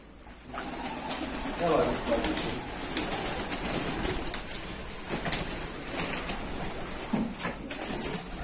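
Pigeons coo softly and steadily inside a loft, a close, continuous murmur of calls with occasional wing rustles, while people talk over them.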